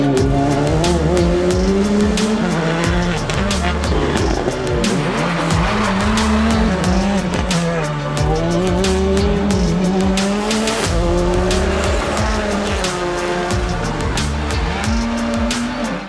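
A Skoda Fabia Rally 2 Evo rally car at full throttle on a rally stage, its engine loud and close as it revs hard, shifts and swoops in pitch, with tire squeal and skidding throughout.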